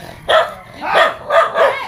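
Dog barking in a Filipino home setting: four loud, close barks in a quick irregular series, with no talk over them.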